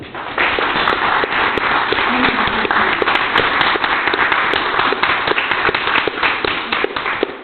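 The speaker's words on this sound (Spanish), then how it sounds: "Un fuerte aplauso para la compañera Solana López." Dense, steady applause from an audience at a Spanish-language activist gathering, many hands clapping continuously at close range with scattered sharper claps standing out, sustained without a break throughout.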